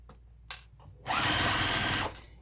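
A sewing machine back stitches through heavy foam along the edge of a crossbody bag; a few short needle bursts give way to a loud, steady whir lasting about a second, close up with no talking.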